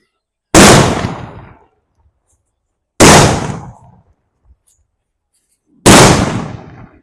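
Three loud, sharp bangs from a string of country-made firecrackers from Valangaiman go off a few seconds apart, each ringing out briefly before fading into silence.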